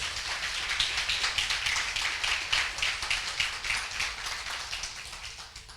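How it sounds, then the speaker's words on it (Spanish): A church congregation clapping together in a steady, rhythmic beat, many hands striking in time at a moderate distance, a continuous pulsing patter that carries through the whole passage without speech. "Dale un fuerte aplauso al Señor, amén."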